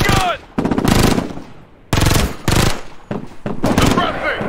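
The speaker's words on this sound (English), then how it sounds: "My machine gun!" Rapid bursts of machine gun fire in the military shooter video game Ghost Recon Future Soldier, loud and close, broken by short gaps, with voices shouting over the gunfire.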